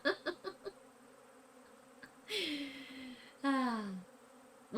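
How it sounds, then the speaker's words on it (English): A pollen-coated worker honeybee buzzes in two close, loud bursts, each about a second long with a falling pitch, separated by quieter stretches and preceded by a few soft taps. "this is a worker honeybee, and she is coated in pollen."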